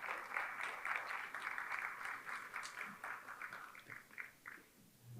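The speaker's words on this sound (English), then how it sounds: "Please give a huge round of applause for them." Audience applause for panel speakers being welcomed to a stage, steady dense clapping throughout that thins slightly near the end.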